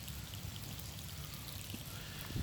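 Water pouring and trickling out past a Hydra Barrier flood barrier set up as a sandbag alternative, a steady close rushing wash with no voices.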